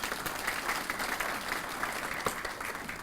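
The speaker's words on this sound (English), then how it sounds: "Yeah, David deserves some applause, doesn't he?" A crowd applauding, a dense steady patter of clapping heard from a distance at moderate volume.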